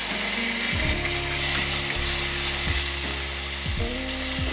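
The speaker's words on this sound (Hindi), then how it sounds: "एक प्याज बारीक कटी हुई मीडियम फ्लेम पे पकाएंगे।" Finely chopped onion frying on a medium flame for a spiced vermicelli breakfast dish gives a constant, close sizzle, with low clunks of a spoon stirring against the pan repeating about every second.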